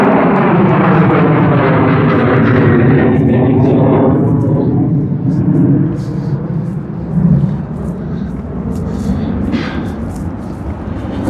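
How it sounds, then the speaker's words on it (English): A plane taking off near Harry Reid International Airport in Las Vegas, a loud broadband jet roar that is strongest at first and eases slightly as it continues, heard outdoors over steady background noise. "and another plane's taking out right now too"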